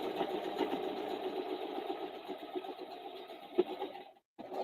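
A sewing machine runs steadily while chain stitching a quilted mug rug, giving off a fast, even mechanical whir with small clicks. The whir cuts out briefly near the end and then resumes.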